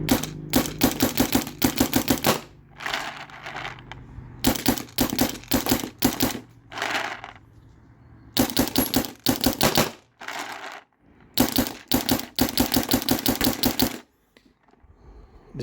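A Planet Eclipse EMEK 100 paintball marker is fired rapidly in a mag dump: loud, close strings of quick snapping shots come in several bursts with short pauses between them.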